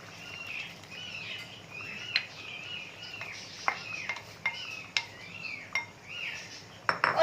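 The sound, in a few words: removing pot lid and adding onion-yogurt paste to chicken karahi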